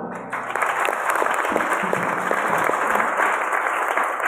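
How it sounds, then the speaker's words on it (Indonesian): Audience applause at an IPNU-IPPNU gathering breaks out after a brief quiet start, building into a loud, sustained crowd clapping that continues steadily to the end. "Tepuk tangan dulu."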